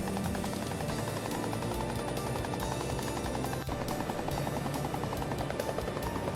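Steady whirring helicopter rotor chop from the video game GTA 6, loud and continuous with a game soundtrack underneath.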